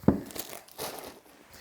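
Plastic wrap on a pack of Shadows of Brimstone game cards crinkles and tears close by, a sharp initial rip followed by a few softer crumpling rustles.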